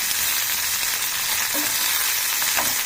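Ivy gourds fry in a pan for a roti chutney, giving a dense, steady sizzle close up, with a couple of faint stirring knocks.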